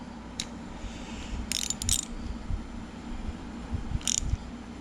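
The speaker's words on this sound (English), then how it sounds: "Hold this, tighten down that set screw." Small mechanical clicks and ratcheting from tightening a set screw on a 351C engine part during an engine build, a few brief close ticks over a low steady background.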